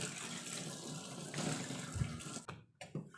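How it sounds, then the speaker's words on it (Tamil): Tap water runs steadily into a kitchen sink while knives are washed, a continuous close splashing wash that breaks off near the end with a couple of brief clinks and drips. "கத்தியெல்லாம் நான் இங்கேயே கழுவி எடுத்து வச்சுருவேன்"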